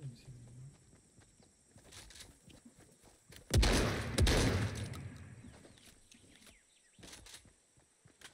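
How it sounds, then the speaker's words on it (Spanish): A loud burst of video game gunfire around the middle, a dense crackling volley lasting about a second and a half, heard through Dolby Atmos, with quieter game sounds and faint voices around it. "Hasta los disparos se escuchan muy genial."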